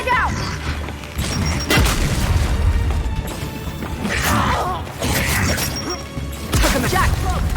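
Frag grenades explode in the Gears 5 video game, heavy booms and crashing blasts rolling one after another amid mechanical clatter, with shouting voices mixed in.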